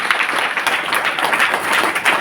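A meeting audience claps loudly in dense, continuous applause, filling the room with a steady crackling roar from start to finish.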